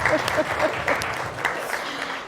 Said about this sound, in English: I think you deserve applause.